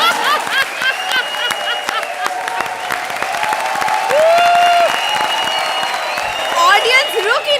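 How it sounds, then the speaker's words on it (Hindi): A studio audience at the Comedy Circus comedy show breaks into sustained, dense applause with cheering and laughter, loud and continuous under a voice speaking over it. "ऑडियंस रुक ही नहीं रही है, तालियों की बरसात हो रही है"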